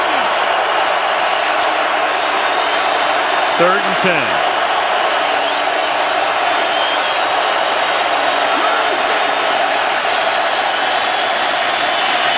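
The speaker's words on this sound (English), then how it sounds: "Tough to get off on the snap with the crowd noise." Stadium crowd roar at a 2011 Packers at Falcons NFL football game, a dense, steady wall of noise that holds throughout, with a commentator talking over it.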